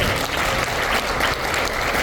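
Audience applause at a talk concert honoring panelists and a host, a dense, steady wash of many clapping hands sustained at even loudness throughout, with no voices over it.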